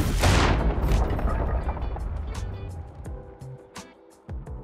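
A video game explosion opens with a heavy boom, followed by rumbling debris and scattered sharp cracks and pops that fade under faint background noise.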